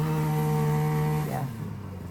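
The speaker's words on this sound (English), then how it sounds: "the weed whacker is very loud" A weed whacker runs outdoors with a loud, steady buzzing engine whine, then winds down and fades after about a second.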